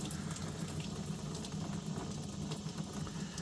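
Coolant drains from a Jeep Wrangler JK 3.8L engine into a bucket below, a quiet, continuous trickle and splash over a faint background hum.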